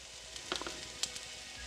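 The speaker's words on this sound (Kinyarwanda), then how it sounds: "ibitunguru bitangiye gushya, uhita ushyiraho za nyanya nazo wakase kuriya" Onions and tomatoes fry in a pan, giving a faint, steady sizzle with a few soft pops and crackles close by.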